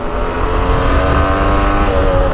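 A Yamaha 125 DTR motorcycle engine runs close up, a loud steady drone with a buzzing harmonic tone that holds evenly throughout without pauses.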